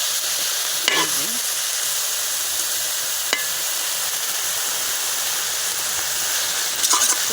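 Vegetables and dried chillies fry in a pan for a village-style bhorta of gourd and pumpkin leaves with dried fish, giving a steady, even sizzle close by with a couple of brief scraping stirs.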